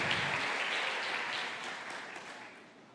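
A church congregation claps together during a sermon, a dense, steady wash of many hands that stays loud for most of the stretch, then gradually thins and fades toward the end.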